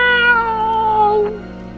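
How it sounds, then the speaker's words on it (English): A cat's long, drawn-out meow with a steady harmonic tone that slides gently downward, loud and close, in a castle-setting audio drama; it fades into quiet room tone near the end. "the caretaker's cat, Mrs. Norris, comes in running and meows."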